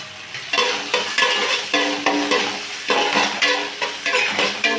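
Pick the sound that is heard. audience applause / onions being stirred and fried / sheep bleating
onions being stirred and fried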